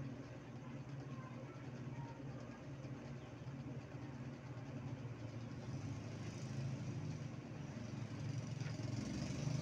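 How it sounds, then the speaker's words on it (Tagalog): A motorcycle engine runs near a shop, a steady low rumbling drone at moderate distance that grows slightly louder toward the end. "Pasensya na medyo maingay yung motor."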